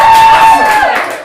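Live improv theatre audience roaring with applause, yelling and screaming on cue, a dense burst of clapping and cheering that swells loudly and then begins to fade after about a second.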